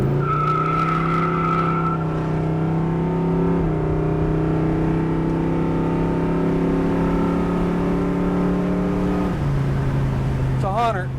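A 1969 Chevrolet Nova accelerates hard on a drag strip, its engine roaring steadily and climbing through gear changes with close, loud exhaust and a brief tire chirp near the end.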